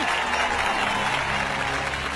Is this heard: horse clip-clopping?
no